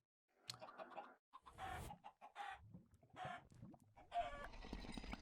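Minecraft chickens cluck in quick, close bursts, one overlapping another in an uneven rhythm, quiet overall and with no talk.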